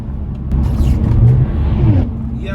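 An Audi accelerating hard on a night-time uphill road, its engine rumbling loud and close for about a second and a half, then fading off while another engine idles underneath.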